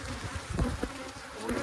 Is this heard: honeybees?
yes